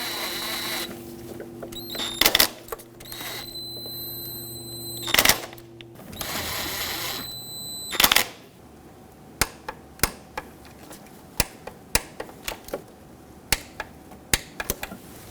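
Valve cover bolts on a 1997-2006 Jeep Wrangler 2.4L are snugged with a ratchet and torqued, first as short bursts of ratcheting, then as a run of crisp single clicks spaced apart, with no talking.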